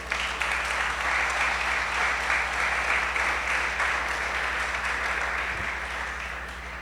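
A church congregation applauds during a sermon, a dense and continuous wash of clapping that fades slightly toward the end.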